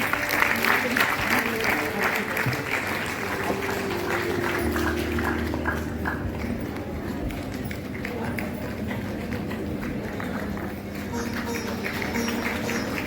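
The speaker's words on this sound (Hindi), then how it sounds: "तालियां थोड़ी थोड़ी बजती रहे।" Sustained audience applause at a large gathering, a dense, even wash of clapping that continues throughout while a voice speaks over it.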